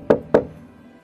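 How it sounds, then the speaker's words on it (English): Two firm knocks on a bedroom door along a corridor, evenly spaced and close by, followed by quiet room tone with no voices. "I went along the corridor to her room and knocked."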